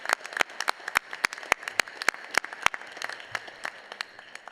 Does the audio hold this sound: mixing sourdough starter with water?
no